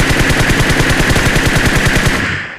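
An automatic weapon in PUBG fires one loud, rapid, evenly paced burst of about two dozen shots, then stops abruptly.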